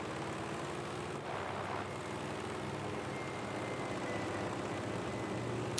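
A propeller plane drones overhead in the Battlefield V shooter game, a steady loud engine hum that stays constant throughout with no voices.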